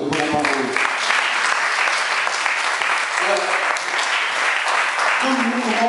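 A church congregation claps together in loud, dense, sustained applause, with voices cheering and calling out beneath the clapping.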